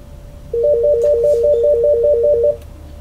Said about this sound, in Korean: 지금 학교에서 업무 중이라 전화가 옵니다